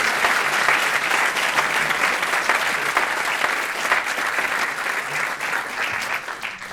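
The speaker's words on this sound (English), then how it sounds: "Please, with a big round of applause." An audience welcomes a speaker to a talk with a sustained round of applause, many hands clapping together in a dense, even roar that stays loud for several seconds before easing slightly.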